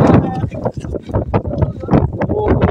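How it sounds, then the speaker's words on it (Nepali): Strong wind gusts buffet the microphone on a mountain ridge near the top of Ben Nevis, loud rumbling bursts rising and falling, with someone talking through it. "यस्तो जोडको हावा चल्यो है"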